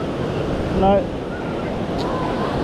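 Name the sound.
ocean waves on a beach with the tide coming in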